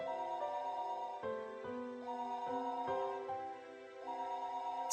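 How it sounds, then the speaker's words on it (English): Telephone ringing in the visual novel Higurashi When They Cry: a steady electronic ringing tone with repeating pitched notes that shift in a regular pattern, continuous and moderately quiet with no voices. "Phone rang noisily downstairs."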